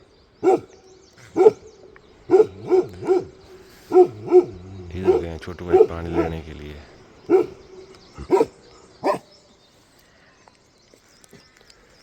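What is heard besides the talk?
dogs barking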